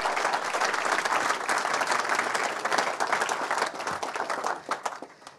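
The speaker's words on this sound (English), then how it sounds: "a big, big round of applause for Rolex" A crowd applauds at the Rolex Fastnet Race skippers' briefing with dense, sustained clapping that holds steady before thinning out and fading toward the end.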